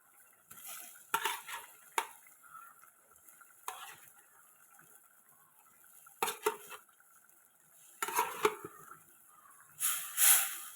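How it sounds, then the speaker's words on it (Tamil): Cleaned sardines, around sixteen, are slipped into a Tamil sardine curry simmering in a pan, with scattered splashes, clinks and short sizzling bursts separated by quiet moments and no voices. "இந்த டைமில் நான் க்ளீன் பண்ணி வச்சுருக்கிற சாலை மீனை உள்ளாடி சேர்க்க போகிறேன்"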